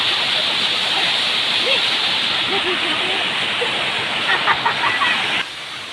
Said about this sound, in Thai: เป็นน้ำตกที่วัดถ้ำโสดา